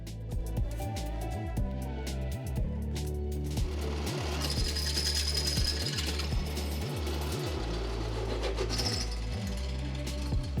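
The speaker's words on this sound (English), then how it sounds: "mark out where we need to drill those holes to put it in place" A power drill bores mounting holes for a bar on a 3D-printed Dremel dock workstation, with repeated rhythmic bursts of grinding and rattling that run steadily and close up, with no talking.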